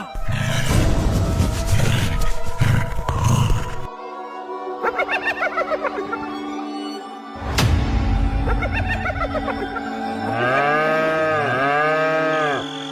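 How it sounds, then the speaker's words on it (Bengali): Cartoon cows bellowing in a village cowshed: a heavy rumbling burst, then several long moos and a final rising bellow, loud and close, mixed with cartoon sound effects. "গোয়ালে গরুগুলো এমন চিল্লাচ্ছে কেন বলো তো?"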